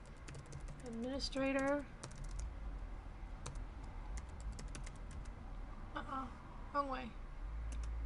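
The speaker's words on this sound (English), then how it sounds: "So I'm going to type in" Rapid clicking of keys on a computer keyboard while logging in to a server in a Windows lab, bursts of typing spread across the clip, with someone speaking briefly over it.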